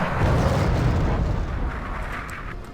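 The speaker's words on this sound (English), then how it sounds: "Fair amount of artillery in this" Artillery fire in the strategy game Wargame: AirLand Battle, a heavy rumbling blast that rolls on and slowly fades, loud and close with no talking.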